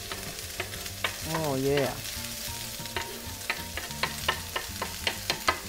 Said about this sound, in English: Get my spoon and move it around a little bit.